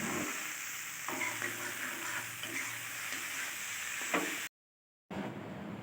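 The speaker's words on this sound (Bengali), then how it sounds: "সেই ম্যাগি ফ্রাই হচ্ছে।" Maggi noodles frying in a pan, a steady close sizzle with occasional scrapes of stirring. The sound cuts out briefly near the end, then the sizzle resumes.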